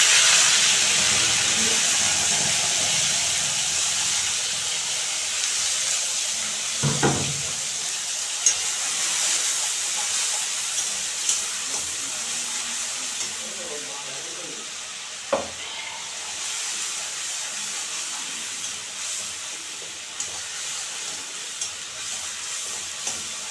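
Onion and garlic paste fries in a pan while shrimp and lotus-stem taro are being cooked, giving a steady, soft hiss and sizzle with a few faint clinks from stirring.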